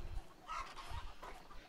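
Chickens cluck and squawk in the video game A Way Out, a few short, fairly faint bursts over a low background rumble, with no one talking.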